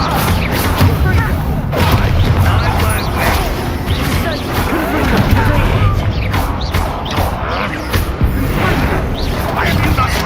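A Confringo fire spell blasts in the Hogwarts Legacy game, loud booming impacts and crashing among dense battle noise, with game characters talking over the chaos.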